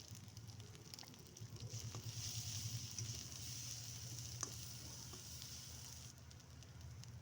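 A spice paste with turmeric fries in a pan, a soft, steady sizzle and crackle with occasional stirring, faint and continuous.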